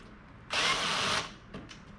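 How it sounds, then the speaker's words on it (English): A power drill drives screws into a ladder-style bookshelf during assembly, one loud burst of whirring lasting under a second, followed by quieter handling noises. "so that I can take my drill and get those in position so it'll hold it"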